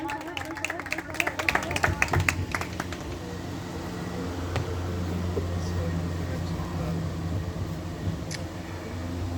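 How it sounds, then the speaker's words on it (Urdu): A church congregation claps to welcome the pastor, a burst of crisp handclaps in the opening seconds that gives way to a low hum of room noise and faint murmuring. "آپ سب کی بھرپور تالیوں میں خداوند کے ممسوح پاسٹر فرمان مینول صاحب"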